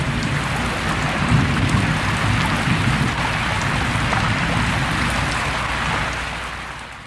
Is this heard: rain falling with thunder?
yes